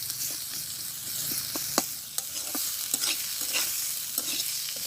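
Onions frying and sizzling in a pan while being stirred, a steady hiss broken by scattered spoon scrapes and clicks, close and continuous with no talk.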